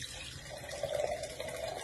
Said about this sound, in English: I'm going to go ahead and pour this into my generous mug.